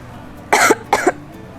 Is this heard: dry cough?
yes